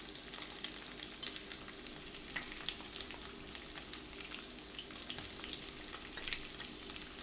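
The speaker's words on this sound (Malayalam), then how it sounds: "ഇനി ഒരു 10 മിനിറ്റും കൂടെ നമുക്ക് തിരിച്ചും മറിച്ചൊക്കെ വെച്ച് ഇത് ഫ്രൈ ചെയ്തെടുക്കാം" Chicken pieces coated in a green masala of fresh coriander and aromatic spices fry in a pan, giving a steady close crackle and sizzle with scattered sharper pops, and no voices.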